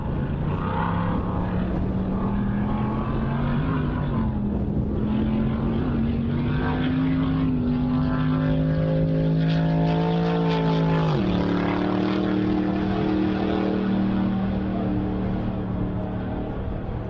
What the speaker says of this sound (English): They're using a 8-cylinder Chrysler 451 cubic inch Chrysler engine.